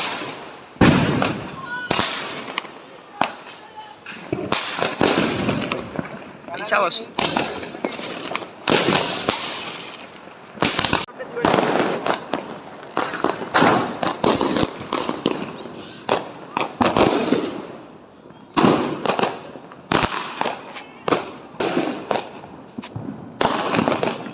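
Rapid bursts of Diwali firecrackers and bombs crackle and bang nonstop, loud and close, with clustered pops and brief gaps, while people talk and shout underneath.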